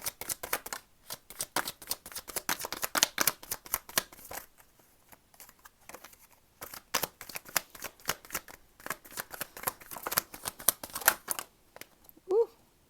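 Tarot and star cards being shuffled in a run of quick, close riffling bursts, pausing briefly around the middle before another long stretch of crisp card flicks, ending with a short sharp snap.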